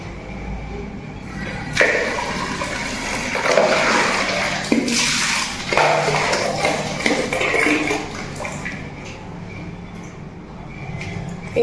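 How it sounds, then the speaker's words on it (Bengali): Water from a tap pours steadily into a washbasin in a hotel washroom, a close, continuous splashing rush for about ten seconds with a few bumps of handling. "এই রেখে দিচ্ছি বেসিনে জল তুলে, জল পড়ছে বেসিনে"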